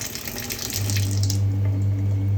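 Chilled filtered sparkling water pours steadily from a tap with a hissing, fizzy rush, building to a constant stream with a low pump hum underneath.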